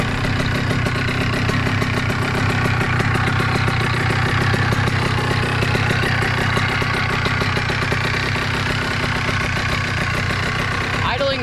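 A Polini Thor 202 paramotor engine idles steadily just after starting, a loud, close, buzzing two-stroke drone with a fast even pulse that holds for the whole stretch, with a voice speaking over it.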